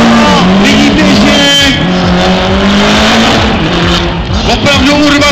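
A drift car runs onto the straight at a drift grand prix in Prague, its engine loud and close with shifting revs and tire noise while a commentator talks over it.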